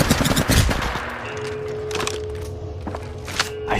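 Rapid automatic gunfire opens loud and close in Apex Legends Mobile, then gives way to scattered sharper shots and impacts over a low game drone, with a steady tone running underneath.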